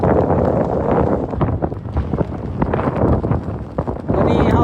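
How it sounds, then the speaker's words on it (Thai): Strong wind buffets the microphone on a high, exposed hillside during a youth under-10 race, a constant rushing roar with gusty swells throughout and brief dips before it surges again. "ตอนนี้เฮาฟังเสียงลมอย่างเดียวเนาะตอนนี้ลมแห้งหลายครับ"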